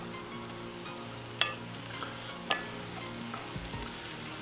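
Ground chili sauce meat being broken up fine in a pan over charcoal on a Weber kettle, with a low steady sizzle and two sharp scraping clacks of the utensil against the pan, fairly quiet and close with no talk.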